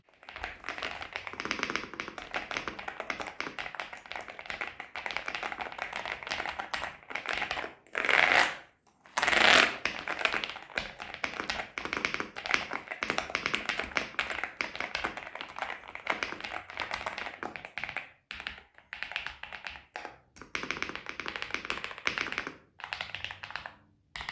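Rapid, bright key clicks from an RX-Storm RX870 mechanical RGB gaming keyboard, typed close and continuous with a few brief pauses and no talking.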